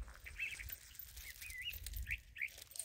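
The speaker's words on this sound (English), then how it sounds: "A lot of birds here." Several birds chirp in short, warbling calls at a distance at a desert campsite by a dam, faint over a low rumble of wind.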